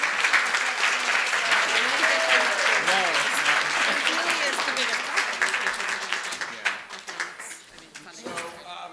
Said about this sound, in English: a round of applause for this wonderful panel, too